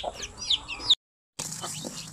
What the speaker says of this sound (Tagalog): Ayun ang inahin, no?